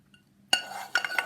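A wooden spoon stirring inside a pot, heard as a sudden scrape followed by a few quick clinking, rubbing knocks against the metal sides, close and faint.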